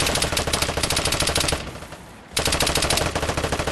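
Machine gun fire in the survival shooter game Vigor rattles in long, loud, rapid bursts. A brief pause in the middle is followed by another sustained stream of shots.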